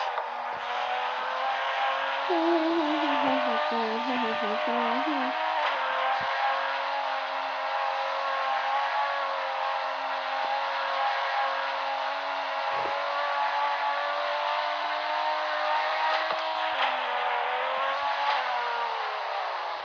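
Car engine in the Roblox racing game, droning steadily and loudly from start to finish, with revs rising and wavering early on before settling into an even hum.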